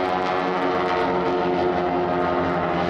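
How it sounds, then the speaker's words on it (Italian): The flying replica of a Caproni Ca.3 WWI biplane passes at the Jesolo air show. Its piston engines make a loud, constant, droning roar with a dense harmonic buzz that stays steady throughout. "E lo sentite il rombo di questi motori che ci riporta indietro in tempi ormai lontani."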